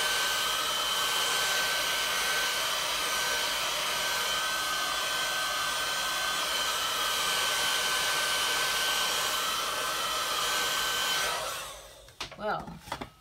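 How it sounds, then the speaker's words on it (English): A heat gun blows steadily and loudly over grey and white resin coasters, a broadband airy roar with a faint whine that holds for about eleven seconds before cutting off, followed by a few brief clicks and knocks. "I'm going to take my heat gun."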